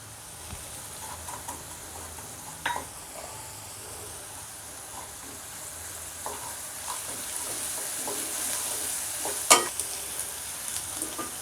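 Seasonings fry in a pan, a soft steady sizzle and hiss running throughout, broken by a few brief stirring scrapes and one sharp clink near the end, with no talk.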